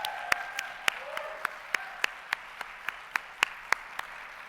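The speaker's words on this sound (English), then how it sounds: "can you give another round of applause to the wonderful writers that we just listened to?" A lecture audience offers another round of applause for the writers, heard as sparse, evenly spaced single claps, about a dozen sharp slaps ringing out over a quiet room with a faint voice beneath.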